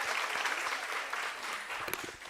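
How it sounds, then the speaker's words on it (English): Audience applause fills a Women's Month event, a dense patter of many hands clapping at once, fairly faint and distant, fading slightly toward the end. "Let's please give her another round of applause."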